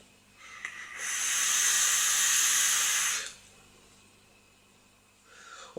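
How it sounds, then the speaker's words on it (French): A KOF RDTA vape atomizer with its airflow wide open hisses steadily as vapour is drawn through it, a single loud, breathy rush lasting about two seconds before falling away, then a faint second draw at the end. "vous le fermez pas en entier parce que comme vous avez vu tout à l'heure, ça siffle"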